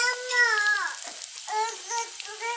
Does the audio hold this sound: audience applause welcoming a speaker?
no